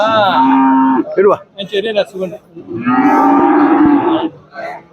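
Cattle moo loudly and close by, two long drawn-out bellows with a few shorter grunting calls in between.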